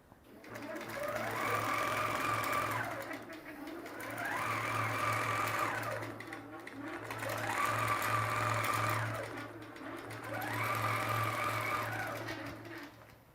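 A Q'nique quilting machine runs its automation to pull up the bobbin thread, giving four whirring passes of rapid stitching, each rising and falling, with short pauses between and a constant low motor hum underneath.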